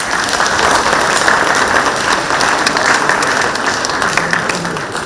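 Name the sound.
audience applause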